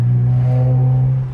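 A V6 car engine holds a steady, loud, close idle-like drone that eases slightly toward the end, lasting just over a second with no voices.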